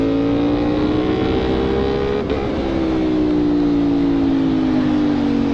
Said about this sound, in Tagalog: At ayun, napaka-traffic dito ngayon.